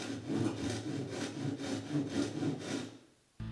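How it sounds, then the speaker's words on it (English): A jigsaw cuts through wooden pieces taped together, with a steady rasping, rhythmic buzz pulsing several times a second, close by at moderate volume, before it stops and a short low thump follows. "I just had to make 3 quick jigsaw cuts as quietly as I could"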